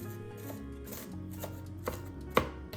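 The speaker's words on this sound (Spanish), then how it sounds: "Primero, corte una cebolla en la mitad y pique eso." Onion being chopped on a cutting board while preparing vegetable enchiladas, a few separate knife strikes over a steady low background hum, the last one sharpest and loudest.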